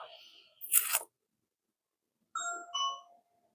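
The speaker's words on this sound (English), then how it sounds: "Someone is at the doorbell." A doorbell rings indoors, a short ding-dong pair of bright chimes after a brief rustle and a moment of silence.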